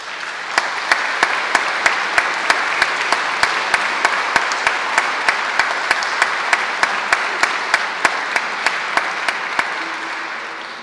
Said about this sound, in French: je vous invite, en signe d'encouragement, à bien vouloir les applaudir